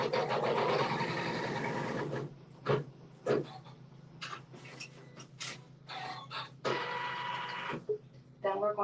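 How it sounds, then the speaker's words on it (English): A home sewing machine with neutral thread stitches a quilting seam through fabric, a steady rapid whirr for about two seconds, then brief bursts of stitching separated by pauses, close and clear. "And we'll let it stitch a seam."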